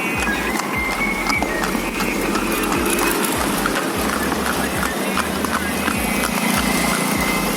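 Horse hooves clip-clop at a steady walking rhythm during a horse-drawn carriage ride in Lucknow, close and continuous beneath background music and road noise.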